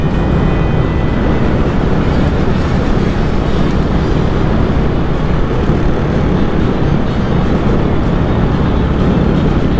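A Royal Enfield motorcycle, the brand's best-selling model, ridden on an evening road, its loud, steady engine rumble and wind roar filling the whole stretch without a break.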